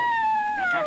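Dogs howl in a long, loud, sustained wail that slides slowly downward in pitch, close by and with no talk over it.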